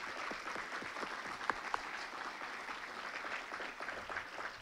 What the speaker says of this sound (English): Could I invite all of you to give another round of applause to our wonderful Aak’w ladies?